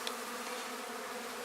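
Bees in a horizontal beehive make a steady, soft buzzing drone that holds even throughout, close by and with no voices.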